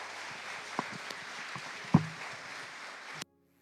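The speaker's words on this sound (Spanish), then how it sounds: "Denle un aplauso al Señor por eso." A church congregation claps in a steady, moderately loud patter throughout a service, then the applause cuts off abruptly near the end.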